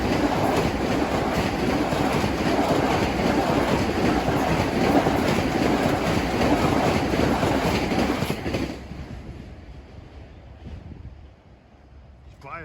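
Long Island Rail Road commuter train rolling past Nassau Tower in Mineola, a loud, steady rumble with rail clatter that dominates for about eight seconds before dropping away as the cars clear, leaving quieter background.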